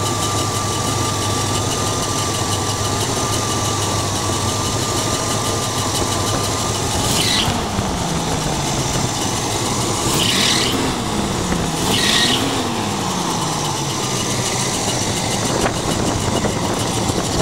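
A 1977 Pontiac Trans Am engine idling up close, a steady, even rumble with a constant drone throughout and a few brief higher noises over it.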